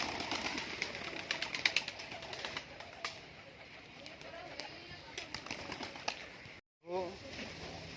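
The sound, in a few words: pigeons cooing and flapping in a pigeon loft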